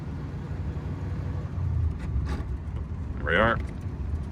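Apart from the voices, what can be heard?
1931 Packard 840 car driving in high gear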